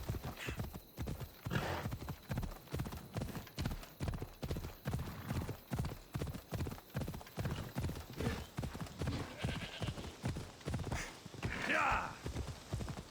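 Horse hooves gallop in a rapid, steady clip-clop rhythm through most of the stretch in Assassin's Creed Odyssey, loud and close, with a rider's shouts and brief voice sounds breaking in near the end.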